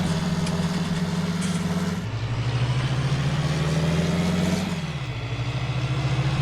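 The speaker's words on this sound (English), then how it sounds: "And this is a fairly high horsepower tractor." A high-horsepower farm tractor strains up a steep hill hauling a heavily loaded harvest trailer, its engine droning steady and close with a low throbbing note that shifts pitch twice as the load bears down.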